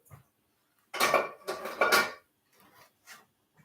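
Dishes being washed by hand: a plate, a cup and a fork clatter and scrape in a few close, loud bursts of ceramic and metal clinking, separated by short quiet gaps.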